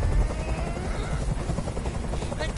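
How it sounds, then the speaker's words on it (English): A helicopter in the video game Detroit: Become Human gives off a loud, steady rotor drone and rumble that holds evenly for the whole stretch, with no break. "Tell that helicopter to get out of here."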